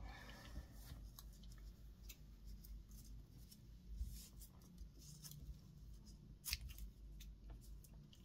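Scissors cut through red fabric binding with a few faint, quiet snips and crisp clicks spread over a soft steady background, no voices.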